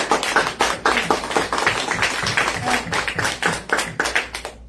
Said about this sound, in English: can we get one more round of applause for our guest speakers today?